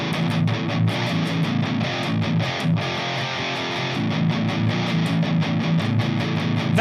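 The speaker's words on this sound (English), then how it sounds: "That's my preamp without the distortion pedal." Electric guitar played through an amp's preamp alone, no distortion pedal, in a metal-tone setup: a loud, steady, crunchy amplified riff of palm-muted chugs and sharp rhythmic attacks running throughout.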